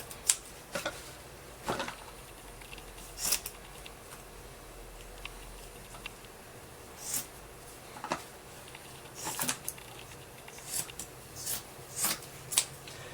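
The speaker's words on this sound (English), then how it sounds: "when you cut carbon fiber, this thing loves to go anywhere it can." Scissors snip through carbon fiber cloth in scattered, irregular cuts, each a short crisp crunch spaced a second or more apart over a quiet background, close and moderately soft, with no talking.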